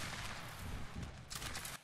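A ragged musket volley fires in the Roblox Waterloo battle game, a dense, crackling burst lasting about a second amid battlefield noise, fairly faint and without speech.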